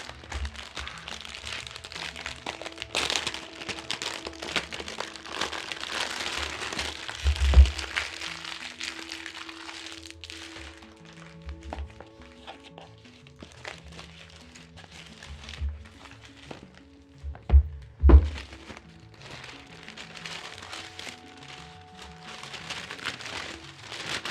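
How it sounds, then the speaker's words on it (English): Tarot deck packaging being unboxed up close, with crinkling wrap and paper rustles, occasional sharp crackles and low thumps, and no talking. "if you want to listen to some ASMR as I unbox, go ahead and feel free"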